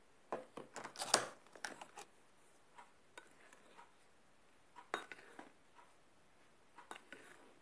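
Spoons or spatulas tapping and scraping against bowls while food colouring is mixed into French meringue macaron batter, with sparse light clinks and taps, a busier cluster near the start, then scattered soft knocks.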